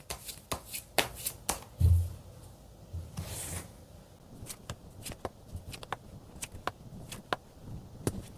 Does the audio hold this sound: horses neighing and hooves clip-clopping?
no